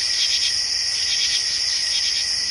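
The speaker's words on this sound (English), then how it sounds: "You hear all the bugs, the katydids, the cicadas." A dense, steady drone of katydids and cicadas at night in summer in Wayne, New Jersey, chirping and buzzing continuously in a high shrill band with a pulsing texture, no voices.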